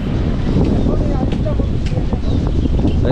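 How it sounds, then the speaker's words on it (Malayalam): Cold wind gusting at the entrance of Eravikulam National Park near Munnar, a steady broadband roar buffeting the microphone close up, with a person talking underneath throughout. "നല്ല തണുത്ത കാറ്റടിക്കുന്നുണ്ട് കേട്ടോ"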